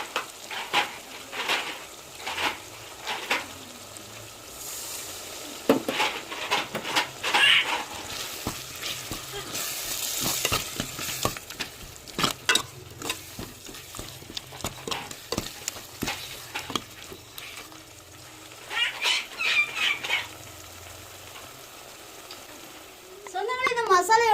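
Onion, tomato, green chilli, ginger paste and masala spices frying in a pan, with a steady sizzle broken by scraping stirs and occasional clinks of the utensil against the pan throughout.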